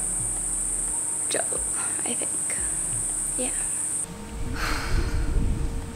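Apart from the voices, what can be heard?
cicadas buzzing loudly outdoors in the heat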